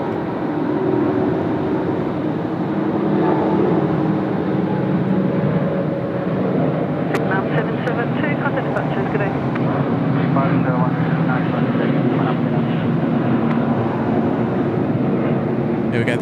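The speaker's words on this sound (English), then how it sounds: "Here we go, the lovely blue of Vietnam just departed there on runway 34 left." Vietnam Airlines jet departing runway 34 left at Sydney Airport, a loud steady roar of engines holding for the whole stretch, with radio-style voices talking over it.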